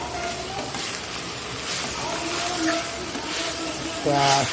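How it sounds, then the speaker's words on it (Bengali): Jute leaves added to a hot pan while cooking a vegetarian Bengali shukto, giving a steady close sizzle and frying hiss with faint stirring and a louder burst near the end. "এবার এই শাকটা দিয়ে দিচ্ছি পাট শাক এটা"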